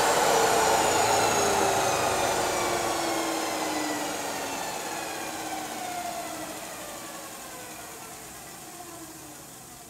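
An EV conversion's flywheel spins down alone, a steady broadband whir whose tones slide gradually lower as it winds down, loud at first and fading slowly over the whole stretch.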